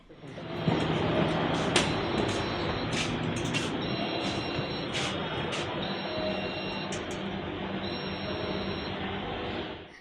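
A steady rumble of a Pune Metro train running, continuous and fairly loud, with occasional clicks and rattles over the drone.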